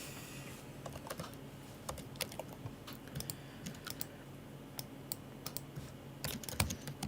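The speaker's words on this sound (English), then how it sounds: "so you're going to hear clicking now and again" Computer keyboard keys click irregularly and steadily for several seconds during live hurricane coverage, close and fairly quiet over a low background hum.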